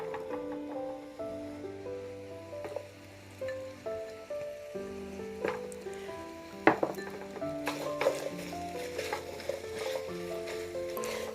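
Ground meat and chopped onions frying in a pan for a breakfast casserole, a steady sizzle with occasional clinks of a utensil stirring, playing under continuous background music.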